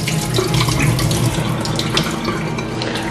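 Cold tap water runs hard into a sink while anchovies are washed for a coconut milk curry. It makes a loud, close, continuous splashing gush with small shifts in the stream, and no one speaks.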